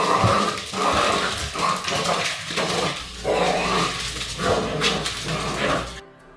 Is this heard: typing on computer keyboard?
no